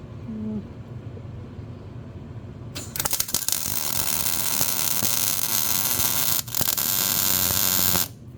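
Tack welding on a Jeep in a home garage: a steady crackling, buzzing arc starts abruptly after a quiet stretch, holds loud and close for several seconds with a brief break, then cuts off.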